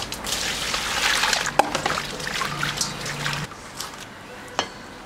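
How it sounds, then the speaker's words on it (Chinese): Green onions rinsed under a running tap in a home kitchen while a goose stews, a steady trickle and splash of water with some clatter, fading near the end with a brief drip. "洗一点葱"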